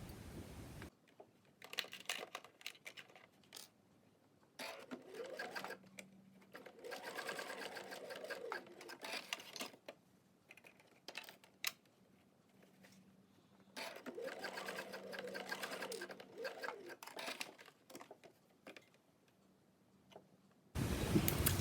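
A sewing machine runs in two long bursts of steady stitching, basting face mask fabric pieces raw edge to raw edge at a quarter inch, with brief pauses and light handling of cloth between runs.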